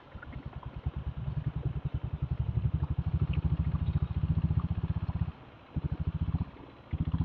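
A diesel Royal Enfield Bullet motorcycle on a night ride, its engine thumping in a steady close rhythm, with brief drops in power as the rider shifts gears near the end.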